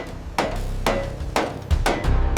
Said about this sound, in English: Hammering the hatch back to true.